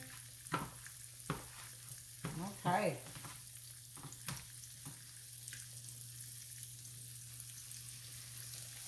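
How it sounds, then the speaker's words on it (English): Red snapper sizzling as it sears in a hot skillet, a soft steady crackle under a few clinks and scrapes, with a brief spoken word partway through. "You hear that searing?"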